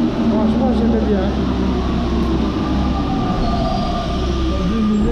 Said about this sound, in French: Il y a le métro.